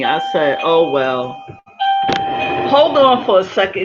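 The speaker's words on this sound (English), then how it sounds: "That's my doorbell." A person talks over an electronic doorbell chime, whose steady tone sounds twice and holds beneath the speech.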